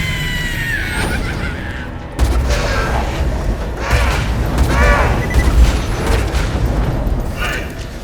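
Booming gunshots and explosive impacts from Borderlands 2 gameplay as Zer0 come in repeated bursts over continuous game sound, with someone talking over them.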